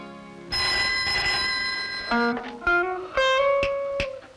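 An electronic phone tone plays a sequence of distinct beeping notes, some sustained and some short, fairly loud with no talking.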